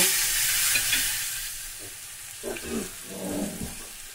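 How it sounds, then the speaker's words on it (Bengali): Pumpkin pieces fry in oil over a high flame, giving a loud hissing sizzle that fades, followed by several scraping stirs of a spatula in the pan, with no voices. "হাই ফ্লেমে করে দিয়ে ভাজা করে নেব"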